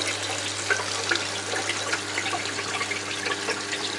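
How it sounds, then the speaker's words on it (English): Water flows steadily through the chambers and over the barriers of an aquarium sump on a 6-foot tank, a constant close splashing rush with no speech. "From here the water runs into the chamber, runs up and over the first barrier"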